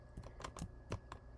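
Quiet keyboard clicks from a computer keyboard used with a mouse for gaming, a handful of separate, irregular key taps close by over a faint background hum.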